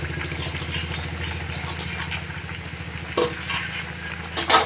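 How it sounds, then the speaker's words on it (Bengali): Fried mourola fish going into wilted spinach in a hot pan, giving a steady close sizzle with rhythmic stirring and scraping, then a couple of louder clatters near the end. "এবারে ভাজা মাছগুলো দিয়ে দেবো"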